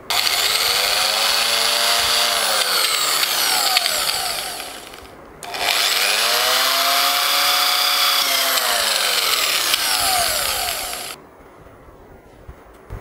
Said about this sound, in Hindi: यहाँ पर हम इस मोटर की साइज का यहाँ पर छेद कर लेते हैं।